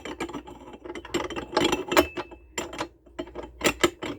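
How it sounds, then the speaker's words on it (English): The metal grinding mechanism is fitted into a meat grinder, producing close, irregular clanks, scrapes and rattles of metal parts knocking together in uneven bursts. "We have the grinding mechanism, which goes in here next."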